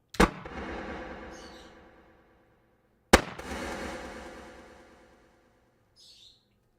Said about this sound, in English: But if I fire my own rifle,